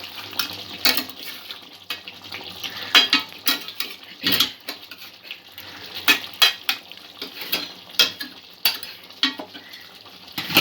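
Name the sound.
stirring prawn korma with cauliflower gravy in a pan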